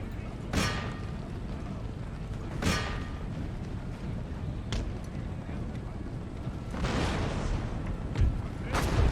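Cannon and artillery fire in Empire: Total War, several heavy booming blasts spaced a couple of seconds apart over a constant rumbling battlefield bed.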